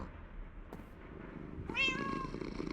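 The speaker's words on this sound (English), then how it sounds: "I know the kitties like to lay on the beds" A cat meows once, short and clear, in the Minecraft modpack ATM9 Skyblock, heard close over a quiet game background.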